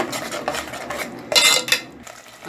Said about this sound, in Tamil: கொஞ்சமாக தண்ணி விட்டு மசாலாவை நல்லா கலக்கி விட்டுருங்க.